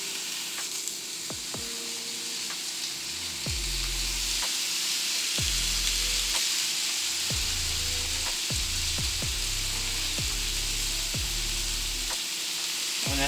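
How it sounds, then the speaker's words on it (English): Three bacon slices sizzle on a hot griddle in a steady, loud hiss, broken by repeated sharp clicks and scraping knocks throughout. "I'm going to start off cooking 3 slices of bacon. I'm going to put that on the grill."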